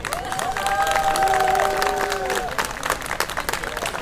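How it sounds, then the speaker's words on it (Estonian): Outdoor crowd applauding at a deer park event, a dense, steady clapping lasting several seconds, with a few voices calling out and whistle-like tones over it. "Suur tänu ja aplaus Akselile"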